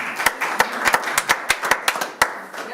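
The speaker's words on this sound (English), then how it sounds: "And I've had heard so much clapping." Scattered hand claps at a press conference for a bioimaging center, about a dozen sharp, distinct slaps from a small group, uneven in rhythm and close, with no talk over them.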